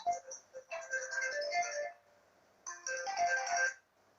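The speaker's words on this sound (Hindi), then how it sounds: "किसी का फोन बज रहा है, बंद कर लो।" A mobile phone ringtone plays during a spoken religious discourse: two bright melodic bursts, each about a second and a half long, separated by a short pause and standing out clearly above a quiet room.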